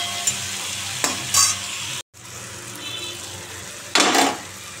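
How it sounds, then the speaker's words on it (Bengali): Potato, bitter gourd and pumpkin slices fry in a pan with salt and turmeric, giving a steady close sizzle broken by brief stirring scrapes and louder bursts, with a short dropout midway. "দেখো আমাদের আলু উচ্ছে ভাজা হয়ে গেল, উচ্ছে কুমড়ো ভাজা হয়ে গেল।"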